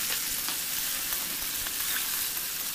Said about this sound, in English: Fry it well.